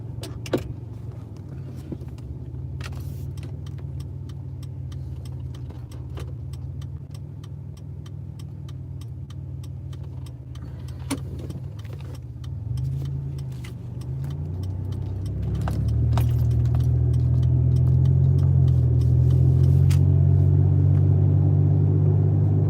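A car driving along a road gives a steady low engine rumble and road noise throughout, with occasional small rattles and clicks inside the cabin, growing somewhat louder and fuller toward the end, no talking.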